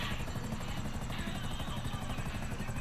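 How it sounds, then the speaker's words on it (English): A video game helicopter drones continuously with a fast, even rotor chop and a low engine rumble, loud and close throughout with no voices over it. "Last chopper in the house."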